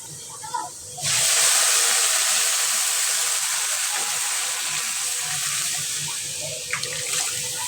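Hot bagar tempering hits a pot of lentil dal with coriander leaves, setting off a sudden loud sizzling hiss that bursts in at once and then slowly tapers over several seconds.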